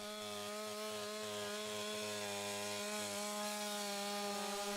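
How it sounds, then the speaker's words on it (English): A power saw cuts through roof decking during vertical ventilation, a continuous loud buzzing whine with a pulsing low chop as the blade bites into the wood. "Make 2 cuts perpendicular to the joist, being careful not to cut the joist"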